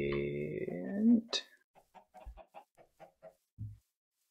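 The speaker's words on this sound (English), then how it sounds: "chickens." Chickens from the video game Minecraft, played with an FTB modpack, give a sequence of short clucks and squawks, a louder call first and then a rapid series of soft, choppy clucks, fairly close.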